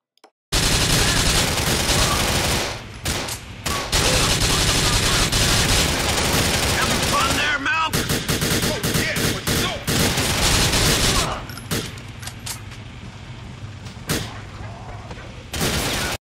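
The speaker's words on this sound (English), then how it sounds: "Once you shoot the bad guys and you take them down, well, then you steal the van." Heavy gunfire in GTA 4 as bad guys are shot down, loud sustained bursts of automatic fire with scattered single shots and brief pauses, some sharp reports standing out near the end.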